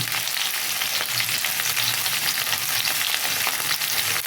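Vegetables fry in a pan for Bengali shukto, giving a continuous close sizzle with the scrape and clatter of stirring throughout. No voices are heard.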